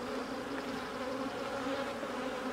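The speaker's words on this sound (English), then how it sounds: "lots of bees." Honeybees buzzing as a hive is split into a nuc, a dense, steady droning hum from many bees close by, continuous and unbroken with no voices.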